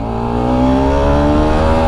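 Bajaj Pulsar RS200 motorcycle engine revving steadily while being ridden, a loud, continuous harmonic drone with rising pitch and no talk over it.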